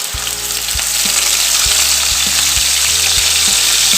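Onion, ginger and garlic paste frying loudly in hot oil with whole spices, a close, continuous sizzle punctuated by spatula scrapes and knocks against the pan, no voices.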